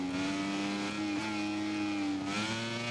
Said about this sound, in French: en caméra embarquée avec Gipsy sur cette KTM Tech 3